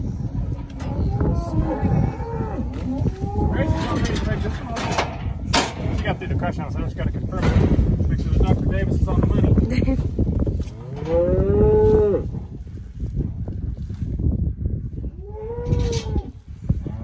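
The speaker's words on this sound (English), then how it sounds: "These are cows that your dad got bred for us" Cattle mooing on a farm during pregnancy testing, several loud drawn-out moos close by, one after another, with people talking and a clank like a gate or door in between.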